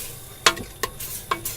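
A spoon stirs canned tomatoes into a pot of spiral pasta, making three distinct scraping clacks over a quiet background.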